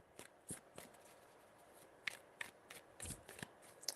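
Tarot cards being shuffled by hand in a quiet room: a run of soft riffling bursts and sharp snaps, a few distinct shuffles spread across the stretch, close and fairly quiet.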